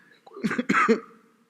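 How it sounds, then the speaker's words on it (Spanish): A single person coughs close to the microphone, a short cluster of two or three rough, throaty coughs with a slight throat clearing, in an otherwise quiet room. "Ahí quiere venir la tos."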